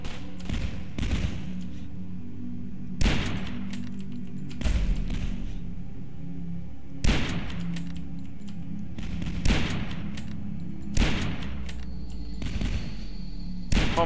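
Rapid, repeated bursts of shooter-game gunfire from DUSK, loud shots landing every second or so over a steady low rumble.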